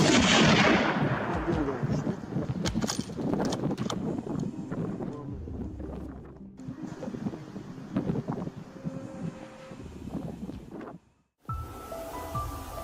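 A hunting rifle fires at a wild boar in rough outdoor terrain, a loud close shot that opens with a heavy blast and lingers as a rumbling echo over gusting wind noise, followed by further rustling and movement.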